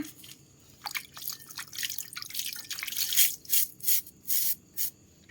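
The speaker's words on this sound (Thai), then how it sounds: "ล้างแปลงก่อน ใช้แปลงนิดนึงนะ" A brush being washed in water, with soft drips, splashes and wet rubbing strokes in uneven bursts, close and fairly quiet.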